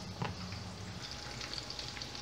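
Breaded chicken fillet coated in egg and cassava flour fries in a pan, a steady soft sizzle with a brief clatter near the start, no voices.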